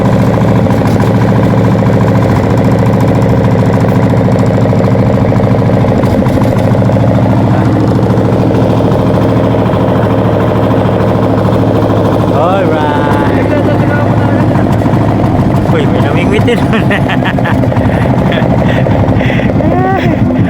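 A fishing boat motor runs steadily, loud and close, a constant droning engine note throughout, with people talking over it at times.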